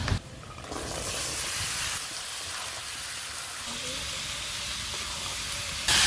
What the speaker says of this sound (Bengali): এবার সবজি দিয়ে দেব গাজর আলু আর মিষ্টি কুমড়া